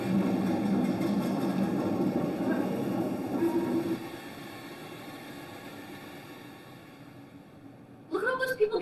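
A train pulls into a station in a wartime drama scene, its heavy rumble loud for a few seconds before easing into a quieter hum, with a voice cutting in briefly at the end.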